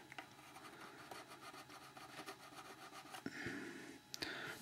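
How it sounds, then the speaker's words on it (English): Hand trimming of rough fiberglass on a rotormast rack gear arm: quiet rasping and rubbing strokes with short scraping bursts, close and faint, with no talking. "I'm going to try to trim that back a little bit"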